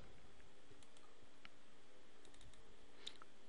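A computer mouse clicks a few times, sparse and faint, while someone browses folders on a Windows PC, with a low steady room hum underneath.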